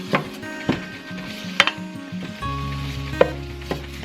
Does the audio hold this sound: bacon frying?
yes